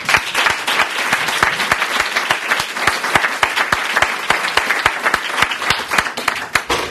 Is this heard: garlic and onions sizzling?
no